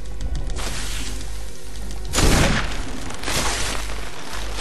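Two loud booming gunshot bursts in Resident Evil HD Remaster, about a second apart, over a steady background hum.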